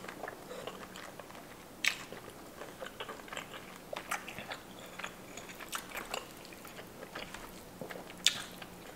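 Peeled shrimp dipped in lime pepper sauce being chewed up close, with soft wet mastication and scattered crisp bites, two sharper crunches standing out, steady and unhurried with no talking.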